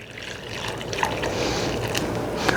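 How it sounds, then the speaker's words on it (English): A small pot of water boiling on a kitchen stove, ready for blanching a peach for a glaze, gives a steady close bubbling and hissing roil with no speech. "Here we have a little boiling water."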